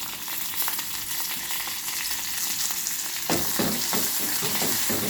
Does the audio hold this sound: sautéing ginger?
yes